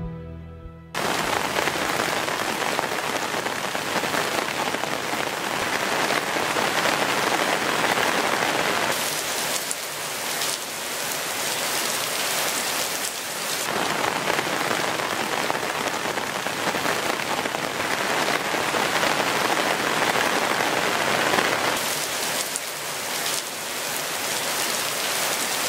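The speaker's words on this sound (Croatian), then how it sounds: "A sati na dosadnoj kiši ispred vulkana samo prolaze." Steady rain pours down near a volcano on Bali, a dense, loud hiss of drops on surfaces that runs unbroken for nearly half a minute, with no voices.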